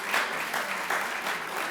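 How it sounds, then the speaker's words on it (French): An audience at a community debate contest breaks into dense, continuous applause, many hands clapping together in a loud, even wash with no voices on top. "je voudrais qu'on les applaudisse très très fort quand même"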